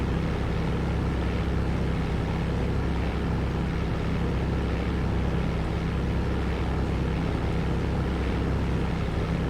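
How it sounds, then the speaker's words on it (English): A propeller aircraft engine in the FlightGear flight simulator drones steadily and loudly throughout, a constant broadband hum with a low tonal rumble and no pauses or talk. "I want to have a little bit of control here on the plane"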